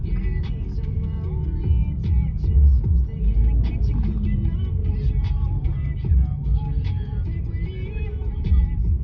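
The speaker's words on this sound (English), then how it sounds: "look at traffic" Road traffic on Red Hills Road in Kingston, Jamaica rumbles steadily, with car engines idling and revving nearby in slow traffic, while people talk over the low continuous drone.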